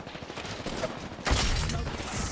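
Rapid bursts of video game gunfire, a loud, dense fusillade of shots erupting partway through after quieter background action.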